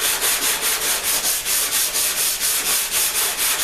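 Auto body filler on a car panel being sanded by hand, a loud, close, scratchy rasp repeating in quick, even back-and-forth strokes with no talk.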